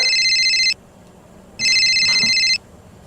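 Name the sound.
telephone ringing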